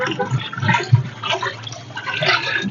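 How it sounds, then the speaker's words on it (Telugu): Cow urine pours into a drum of water to make jeevamrutham for natural farming in Palnadu district, a continuous close splashing and gushing that holds steady for a few seconds at moderate loudness. "ఆ తర్వాత చివరిగా మనం ఆవు మూత్రం కలుపుకుంటున్నాం మేడం."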